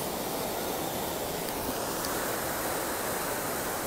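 The Colima river rushes after a rainstorm in the metropolitan area of Colima, a steady, loud, broadband roar of turbulent water with no pauses.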